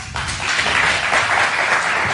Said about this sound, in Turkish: Hadi alkışlar.